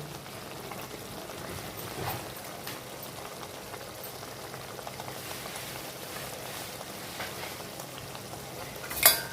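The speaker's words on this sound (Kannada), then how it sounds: "ಕೊತ್ತಂಬರಿ ಹಾಕಿ ಒಳ್ಳೆ ಮಿಕ್ಸ್ ಮಾಡಿಕೊಳ್ಳಿ" Chicken sukka with coriander stirred in a pan: a faint, steady bubbling sizzle with soft stirring scrapes, ending in a sharper clink near the end.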